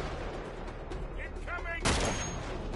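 Enemy gunfire in the action game Uncharted 3, a continuous crackle of distant shots topped by a sharp loud blast near the end, with muffled voices faintly underneath.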